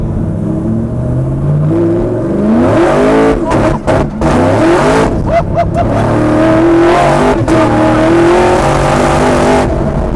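A supercharged, LS-swapped Buick G-Body with about 1000 hp on 335 tires launches hard, the loud engine roaring through repeated wheelspin and tire chirps, with brief cuts and stutters as traction control intervenes.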